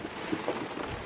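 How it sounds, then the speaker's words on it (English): A light drizzle of rain falls at sunrise on Hamilton Island, giving a soft, even patter with a low background rumble, brief and moderately quiet with no voices. "It's not heavy, it's just like quite of a drizzle, showering."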